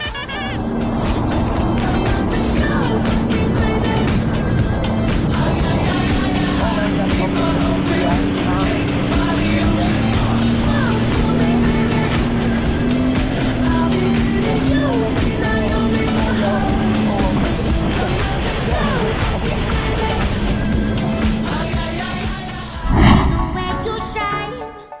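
Jet ski skimming across open water near Jimbaran, Bali, its motor droning loud and close with rising and falling pitch under continuous spray and wind, voices talking over it, ending in a sharp splash-like burst.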